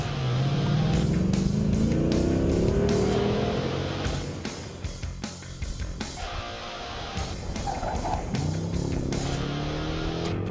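A Jeep driven hard along a gravel rally track, its engine loud and steady as it accelerates, with gear changes and gravel crunching beneath the tyres; no voices.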